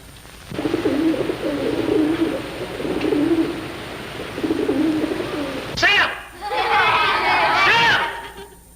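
Pigeons coo in low, throaty repeated phrases at close range in a crowded indoor scene from a 1951 film, their cooing running under and between lively overlapping voices and excited chatter.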